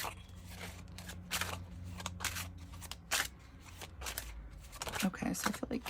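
Tarot cards shuffled in repeated quick riffling bursts at close range, with soft handling between them and a little talk near the end.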